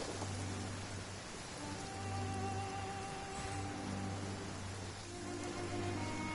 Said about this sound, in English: Going out on a rainy day is the worst.